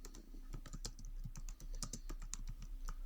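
Quick, uneven keystrokes patter on a computer keyboard while code is written, a soft run of close clicks with brief pauses and no talking.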